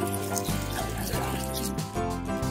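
Running water rinses a muddy toy Amargasaurus dinosaur, a continuous close splashing stream with a few uneven gurgles.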